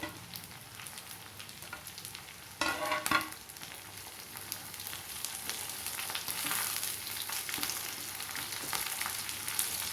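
Chopped capsicum hits a hot pan of vegetable Maggi noodles, a loud sizzling burst partway through that settles into a steady, crackling fry continuing to the end, with no talking.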